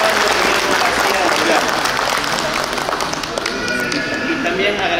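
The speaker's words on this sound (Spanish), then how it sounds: "Un fuerte aplauso para." Loud applause from a crowd at a festival honouring the Virgin Mary Magdalene in Uramaza, Cajatambo, near and dense clapping with voices mixed in and lively chatter underneath.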